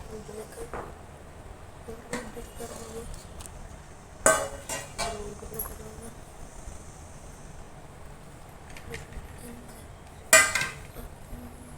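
Lid being lifted off a pot of steamed cucumber cake: a few sharp metallic clinks and clatters stand out against a quiet background, with a voice talking in between.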